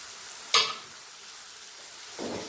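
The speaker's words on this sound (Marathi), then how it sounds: "आता हा छान आपण परतून घेऊ" A capsicum curry with yoghurt and finely chopped tomato is stir-fried in a pan: a soft continuous sizzle with a sharp spatula scrape near the start and another stirring swish near the end, close up.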